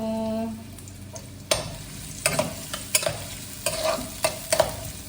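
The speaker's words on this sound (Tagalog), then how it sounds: "Ayan, halo-halo lang tayo." Ginger, onion and vegetables are stirred in a pot for chicken tinola, with a utensil scraping in repeated, fairly regular close strokes over a light sizzle and no voices.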